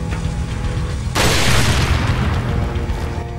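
A loud explosion bursts in the Resident Evil 4 video game, a sudden broadband blast that hits mid-clip and rolls on as a sustained roaring rumble over the game's background sound.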